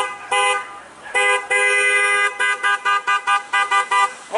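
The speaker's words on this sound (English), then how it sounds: "Honk if you love Jesus." Car horns honk repeatedly, a few long blasts followed by a run of short rhythmic toots, loud and fairly close, with no talking.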